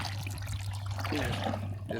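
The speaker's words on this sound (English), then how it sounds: "just drop it in the water." A WYBOT robotic pool cleaner drops into pool water with a soft splash and gurgling, trickling water, fairly quiet and close.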